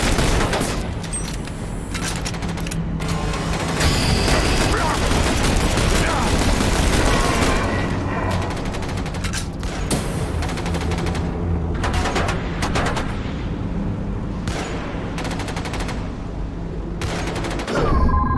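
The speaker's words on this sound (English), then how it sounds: "Firing on your target!" Sustained bursts of gunfire from a firefight in The Bureau: XCOM Declassified, dense and loud, with rapid volleys and booms continuing almost without pause, briefly easing in gaps before resuming.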